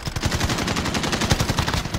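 Rapid automatic gunfire from Call of Duty Warzone rattles in tight bursts, loud and close, with sharp repeated shots in quick rhythm and no talk over it.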